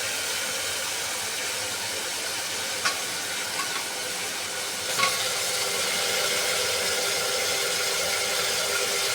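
Onions and potatoes fry in a pot for pulao, giving a steady, loud sizzling hiss that runs throughout. A couple of faint clicks from a utensil come through in the middle.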